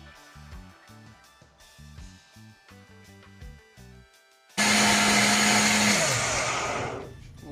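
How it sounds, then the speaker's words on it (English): A blender starts suddenly after some rhythmic music and roars loudly for a few seconds, its motor pitch dropping as it chews through beetroot before stopping. "Powerful blender."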